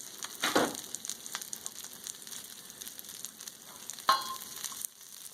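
Smashburger sliders with cheese and bacon sizzle on a Blackstone griddle, a low steady crackle with a couple of sharper spatula scrapes and clanks standing out.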